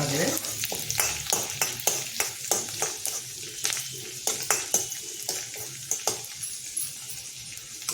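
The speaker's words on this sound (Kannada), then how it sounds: "ಈ ಬೆಳ್ಳುಳ್ಳಿ ಮತ್ತು ಶುಂಠಿನ ನಾನು ಹೆಚ್ಚಿಟ್ಕೊಂಡಿದ್ದೀನಿ ಇದು ಸ್ವಲ್ಪ ರೋಸ್ಟ್" Chopped garlic and ginger roast in a pan for palak paneer, giving a soft frying sizzle broken by a rhythmic series of spatula scrapes and taps against the metal.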